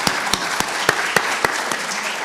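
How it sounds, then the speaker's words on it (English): At the SNCA 2024 meeting wrap-up, a conference audience claps for poster and session presenters: steady, close applause where a few sharp individual claps punch out at a regular beat. "Let's give everybody a round of applause for their posters and for their sessions."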